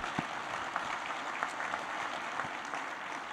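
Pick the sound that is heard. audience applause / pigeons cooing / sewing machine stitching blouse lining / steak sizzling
audience applause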